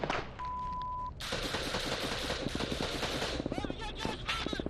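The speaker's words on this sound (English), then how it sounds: "I'm gonna need some covering fire to get down that alley." Heavy combat gunfire from US Army troops fighting the Taliban, with dense bursts of rifle and machine-gun fire filling the clip, loud and close, as voices shout beneath the shooting.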